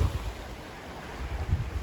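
High water surges against a rocky shoreline during a fishing trip at Ternate, giving a steady close wash of surf mixed with gusty wind buffeting the microphone, with no talk.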